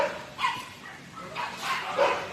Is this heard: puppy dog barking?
yes